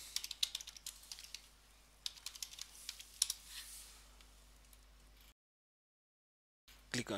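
Rapid, uneven keystrokes as a system password is typed on a computer keyboard, close and clear, stopping briefly before a short burst of clicks at the end.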